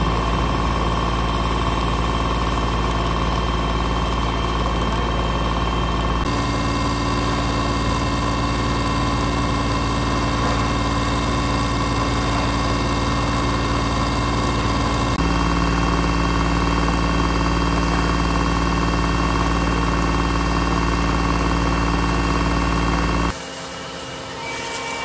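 A big milling machine runs at about 400 RPM, cutting with a gigantic 200 mm square auger drive bit, giving a loud, steady droning hum with layered tones that shift slightly in pitch and then drop off abruptly near the end.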